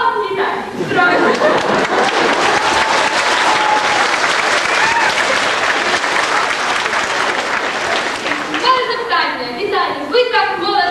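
Audience in a hall applauding a contestant's answer at a Ukrainian stage show, steady loud clapping for about eight seconds, with a voice speaking near the end as the applause fades.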